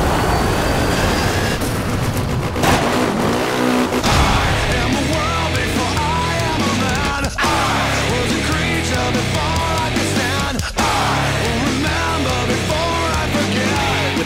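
Off-road racing vehicles in Motorstorm on PlayStation 3 roar with a continuous, loud, dense engine and tire drone. Brief dips and abrupt cuts break the sound, and no voices are heard.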